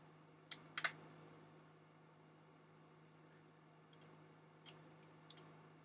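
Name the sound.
Rolleicord camera shutter self-timer countdown mechanism ticking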